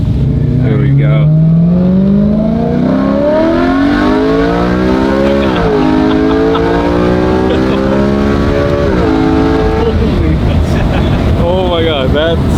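BMW E93 M3 with a naturally aspirated V8 accelerating hard, a loud, close engine note rising through the gears with brief drops at each shift, heard from inside the car with voices present.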